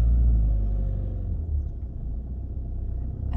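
A car engine rumbles low and steady throughout while the driver tries to park, a close, continuous idle without any voices.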